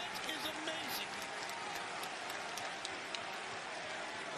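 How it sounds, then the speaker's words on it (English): Wrestling fans at AEW Dynasty in Philadelphia rise in a standing ovation, with a dense, steady wash of cheering and clapping that holds evenly and sounds somewhat distant. "And look at the fans stand up and cheer. Hey, standing ovation from Philly."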